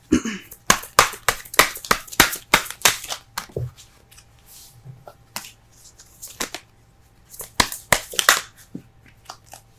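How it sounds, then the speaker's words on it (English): Tarot cards burst from a deck and scatter, a quick run of sharp flicking slaps and papery snaps close by, then quieter shuffling and a second flurry of rapid card slaps. "Cards are flying out everywhere."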